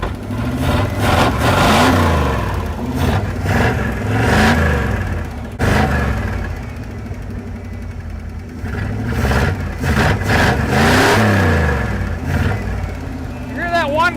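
A car engine at close range revs in repeated rising surges as a carburetor barrel opens, with a steady idle rumble between the bursts and people talking over the top.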